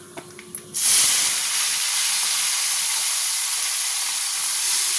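Fish sliding into hot oil bursts into a loud, steady hiss of frying that holds unbroken after a few faint knocks at the start.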